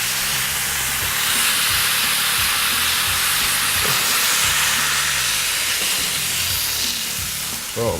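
Tomatoes and poblanos sizzle steadily in a hot pan, a loud continuous hiss and crackle heard close up, with a few clattering knocks of utensils underneath.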